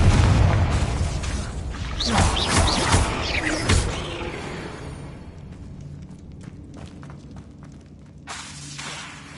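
A Confringo fire spell from Hogwarts Legacy bursts in a heavy, close boom with crackling debris, followed by a softer rumbling tail and scattered small impacts fading out.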